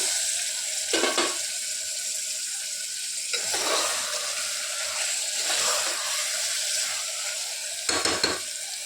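Washed mutton hits a pan of softened, stewed tomatoes for a curry and sizzles steadily, with a few louder splashy bursts as the meat is stirred and turned.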